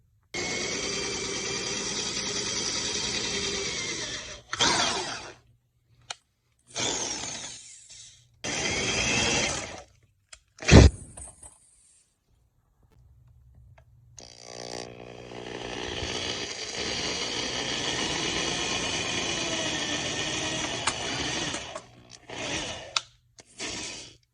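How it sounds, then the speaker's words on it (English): Bursts of a power drill whirring in short runs with pauses between, close up, drilling holes in junk-metal arm armor, ending in a longer stretch of steady grinding. "And then make those marks and then drill them."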